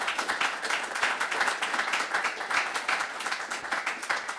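Audience applause at a graduation ceremony for an executive protection security course, a steady, fairly dense patter of clapping from a medium crowd that holds at an even level throughout.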